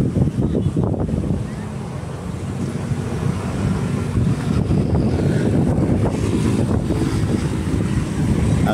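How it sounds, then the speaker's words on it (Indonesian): Strong gusty wind sweeps through a street near a market, roaring and buffeting steadily against the microphone with a heavy, unbroken rush throughout. "Anginnya kenceng guys tuh."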